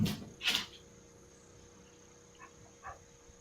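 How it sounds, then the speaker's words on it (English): Dogs bark faintly in the background, two or three short distant yelps spaced apart against a quiet room with a steady low hum. "My dogs are making a bunch of noise in the background here."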